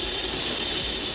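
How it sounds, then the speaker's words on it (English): Steady, dense hiss of static interference picked up by a horn antenna, with a bright, constant high edge, unchanging and continuous for a brief moment. "the horn antenna they're using picks up constant interference"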